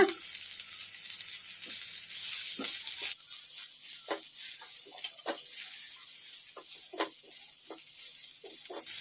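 Fenugreek leaves and white sesame seeds frying in oil for a tomato chutney, a steady soft sizzle with scattered pops and crackles and occasional stirring scrapes, close and moderately quiet.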